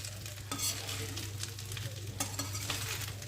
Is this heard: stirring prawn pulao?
yes